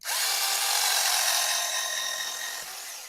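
Leader Lite BD4-W1 cordless electric scissors cutting thick leather about 1.5–2 mm, a loud steady high-pitched motor whine close up that tapers slightly toward the end, no talking.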